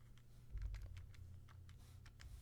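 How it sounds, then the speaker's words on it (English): Quick, light taps on a calculator keypad come in an uneven run of soft clicks, close and quiet over a low room hum. "typing that into my calculator"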